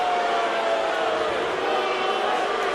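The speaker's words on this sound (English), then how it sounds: "Crowd getting a little restless." An arena crowd at an MMA heavyweight bout makes a restless, steady murmur of many voices with scattered shouts, heard under a commentator's talk.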